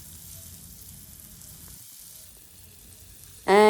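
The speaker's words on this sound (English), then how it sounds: "we will fry them until they turn golden brown in color from both the sides" Prawns frying in a pan for a garlic broccoli stir fry give a steady, fairly quiet sizzle throughout, closing with a sudden louder burst at the very end.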